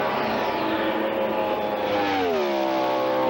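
An IndyCar race car on track, nursed around the final mile through the turns, its engine a steady high-pitched whine that rises in pitch toward the end as it passes close by.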